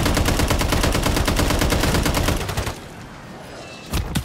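Gunfire in a shooter video game: a dense, rapid, loud automatic burst lasting over two seconds, then a brief lull and another shot near the end.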